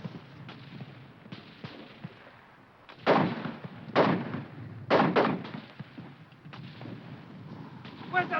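Mortar fire in a war-movie battle scene comes as heavy booming blasts at roughly one-second intervals over a background of rumbling and scattered shots, with brief shouting.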